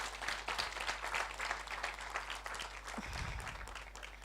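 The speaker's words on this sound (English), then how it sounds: "I think we can do better by clapping for the ambassador" A conference crowd at the Kenya Ideas Festival, National Museum of Kenya, claps for the ambassador: a dense, fairly faint wash of hands that thins toward the end, with a brief low thump partway through.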